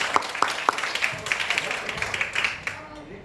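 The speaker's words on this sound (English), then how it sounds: "give her a warm round of applause." An audience at a talk gives a short round of applause for a speaker, a few sharp early claps swelling into a spread of quicker, lighter clapping that fades out within seconds.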